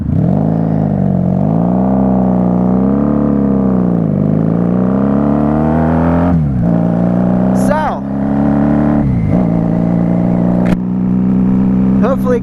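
A 1994 Honda Magna 750 (VF750C) motorcycle engine idles steadily while running low on fuel, its rumble wavering and dipping, with brief sharp clicks and a voice speaking briefly over it near the end.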